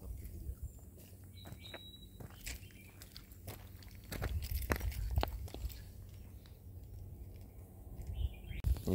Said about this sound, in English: That was a whistle water drop bird, isn't it?